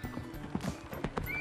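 Horse in the video game Wildlife Park 2: a brisk run of clip-clop hoofbeats mixed with a short whinny, close and clear over a quiet background.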